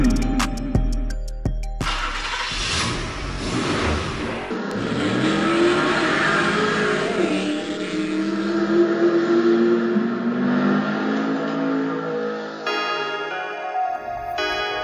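Small 1/32 scale slot cars, including a Dodge Viper and a Mustang, race around a track in a tournament heat, with a continuous whining motor drone that rises and falls in pitch as they circuit, loud and close.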